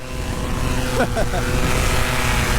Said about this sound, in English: It didn't rev up to full throttle immediately, so that took a little bit of convincing.